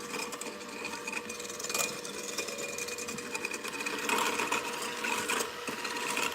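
A stand or hand electric mixer beats cream with about 30 grams of refined sugar for a gluten-free, lactose-free birthday cake, giving a steady close whirring motor drone that runs unbroken and swells slightly louder near the end.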